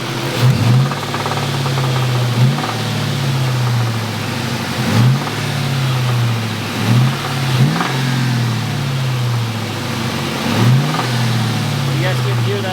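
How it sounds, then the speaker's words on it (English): A 1998 Cobra car engine runs with a repeated knock, its idle rising into brief revving surges every couple of seconds, close and loud, a rattling tap riding over the steady engine drone. "You guys can hear that knock."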